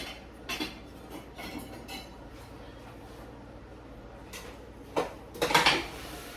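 Crushed and diced tomatoes being stirred into chili in a pot, heard as intermittent utensil scrapes and clinks against the pot, with a cluster of louder knocks near the end.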